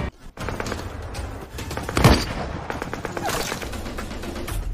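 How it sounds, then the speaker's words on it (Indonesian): Rifle fire in a war film about a Soviet sniper fighting German Nazi troops: a sharp, loud gunshot crack stands out in the middle of a busy, rattling battle din with scattered further shots. "ia pun melepaskan tembakannya"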